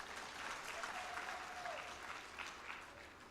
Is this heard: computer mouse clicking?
no